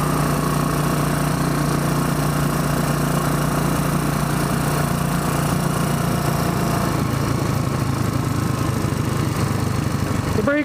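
A Royal Enfield Bullet 500 Iron Barrel motorcycle being ridden, its engine a loud, continuous drone with wind rush, the tone shifting slightly near the end.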